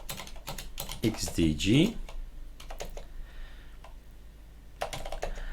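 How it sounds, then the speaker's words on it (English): Fast keystrokes on a computer keyboard while a man installs software on Arch Linux in a virtual machine, clattering in quick runs with pauses as he talks over it. "So go type some more."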